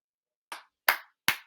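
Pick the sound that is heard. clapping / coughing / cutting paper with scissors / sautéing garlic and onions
clapping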